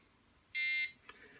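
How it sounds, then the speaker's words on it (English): A short, sharp electronic buzzer beep from an Arduino Mega sounds once, loud and piercing against a quiet room. "then it will acknowledge back to the Mega with the buzzer"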